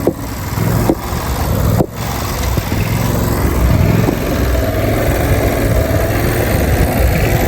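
A John Deere LT166 riding lawn mower with new tires pulls away under its engine, a loud, steady, close drone with a couple of brief dips at the start and no one talking.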